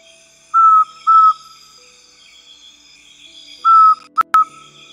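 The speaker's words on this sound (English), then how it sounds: "While the East Brazilian Pygmy Owl has a call with two or three high-pitched whistles" An East Brazilian pygmy owl gives short, clear high-pitched whistles, two spaced notes, then a pause and another pair, with a brief sharp click between them, in a quiet background.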